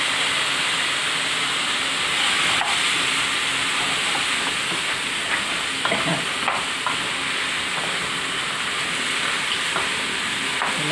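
Squash sautéing in a pan with ginger and chili before coconut milk is added, giving a steady close sizzle and hiss with occasional clinks of stirring throughout.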